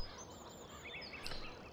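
Faint clucking and chattering of video game chickens on a farm in the background, soft and somewhat distant over low ambient noise.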